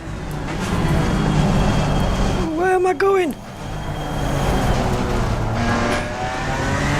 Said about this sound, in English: Hasn't got the best engine sound in the world.